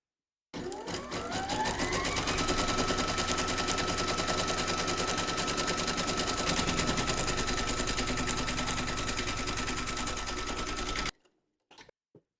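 Embroidery machine stitching through batting held in a hoop, a loud steady rapid mechanical stitching rhythm running nonstop for about ten seconds, then stopping, followed by a few faint clicks.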